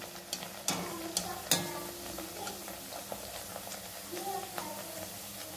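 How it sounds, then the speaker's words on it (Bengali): Rolled naan puri dough deep-fries in hot oil, a soft bubbling sizzle broken by a few sharp clatters and scrapes of a utensil, close by, with some low background murmur. "এবার এইগুলোকে আমি তেলের মধ্যে ভালো করে ভেজে নিচ্ছি"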